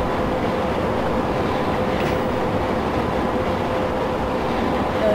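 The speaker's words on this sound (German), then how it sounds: "Jetzt überholen wir nochmal eine S-Bahn." A BR 111 electric locomotive train in Train Simulator 2015 overtaking an S-Bahn, a loud continuous rolling rumble with a faint clickety-clack and brief squeal, steady and close without talk.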